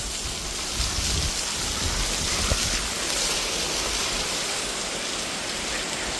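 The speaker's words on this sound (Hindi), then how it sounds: "देखो भाई बारिश कितनी आ रही है वो दिखा रहा हूँ।" Heavy rain falls steadily during an outdoor run, a dense, loud, unbroken hiss of drops on surfaces with no pauses, close and enveloping throughout.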